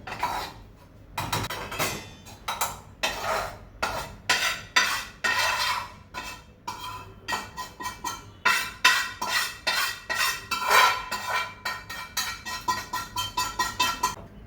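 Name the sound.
scraping roasted gram flour (besan) out of a pan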